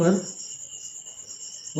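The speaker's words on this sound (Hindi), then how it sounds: "अभी तो जैसे मक्खियों की आवाज़ सुनाई दे रही है ना?" A steady high-pitched drone of flies hums faintly throughout inside a stepwell, with a brief low thump at the start and another at the end.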